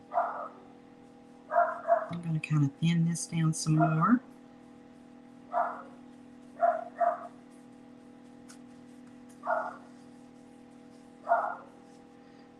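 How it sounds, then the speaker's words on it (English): A small dog barks repeatedly indoors, short sharp yaps spaced several seconds apart, loud and close, with a person talking over part of it. "My little dog is very tore up with whatever he's seeing."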